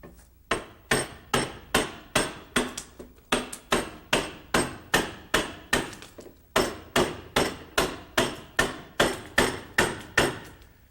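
A mallet pounds a gouge into wood held in a vise while a loon is carved, giving about two dozen sharp, evenly spaced knocks, loud and close, with no talking.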